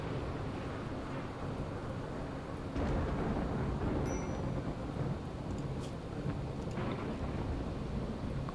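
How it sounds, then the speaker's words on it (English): Heavy rain falls in a video game, putting out a fire threatening crops, as a steady loud hiss with low rolling thunder rumbling underneath, and a stronger surge partway through. "There's that rain."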